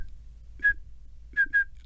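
A person whistles short high pulses imitating 2600-hertz telephone dialing tones: one brief tone, a pause, then two quick tones close together, clear and isolated against near silence.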